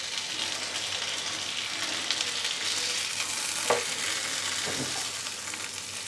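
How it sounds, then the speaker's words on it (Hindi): Tandoori chicken pieces frying in a pan, a loud continuous sizzle and crackle with a couple of utensil knocks midway, close up and without speech. "दोनों तरफ से अच्छे से हमारा चिकन फ्राई हो गया है"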